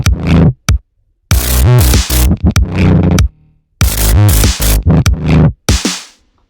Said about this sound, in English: here's what it sounds like with the kick and snare